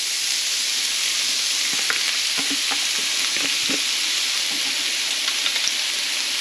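Carrots tossed into a hot pan of stir-fried vegetables for glass noodles with shrimp and bok choy, a loud continuous sizzle with scattered clatters of stirring, no voices.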